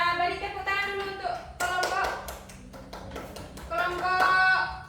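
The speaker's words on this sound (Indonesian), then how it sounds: "Kita beri tepuk tangan dulu untuk" A classroom group claps for a student group, with a burst of hand clapping in the middle of the clip and voices talking before and after it.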